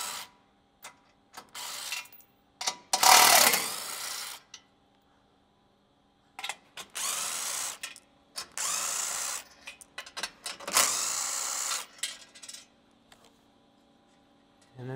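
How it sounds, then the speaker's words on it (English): Power tool with a 14 mm socket backing out crash bar bolts on a 3rd-gen Toyota Tacoma, several loud whirring bursts of a few seconds each separated by quiet gaps, close up. "we're gonna use a 14 millimeter socket. We're gonna remove these."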